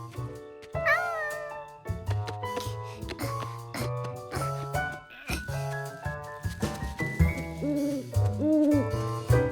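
A nocturnal bird calls at night in a children's cartoon, giving a string of sliding, tonal hoots and cries over a soft rhythmic musical backing, with no talking.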